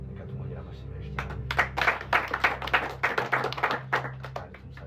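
Clapping from a church congregation gathered for a worship service, a dense ragged burst of hands that swells and keeps going over a low steady hum, with some voices mixed in.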